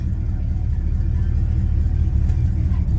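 A 1967 Chevy C10 pickup truck being driven, a continuous low engine rumble with road noise heard from inside, steady and moderately loud with slight rises in revs.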